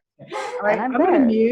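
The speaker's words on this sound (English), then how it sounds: "That's my dog howling because he hates the phone." Pet dog howling and whining near and loud, a wavering, rising-and-falling howl with a few yips, heard under a person speaking briefly.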